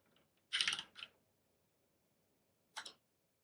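A few quick clicks of keys on a keyboard connected to an IBM PC XT, a short burst followed by a pause and one more tap, quiet and close.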